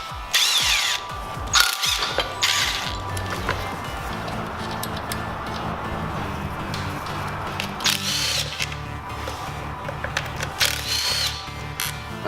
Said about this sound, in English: since I've got the 10mm on my drill, I'm just going to take everything off that I know is a 10mm.